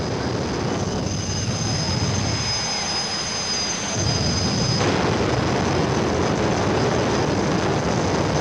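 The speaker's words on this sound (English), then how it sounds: "In all of racing, nothing surpasses the thunder and lightning of jet cars in action." A jet car engine roars loud and continuous at a racing event, a dense rushing blast with a thin high whine riding on top, surging stronger partway through.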